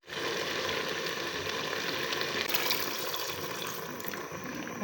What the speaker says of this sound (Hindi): अब हम इसमें लगाएंगे पानी।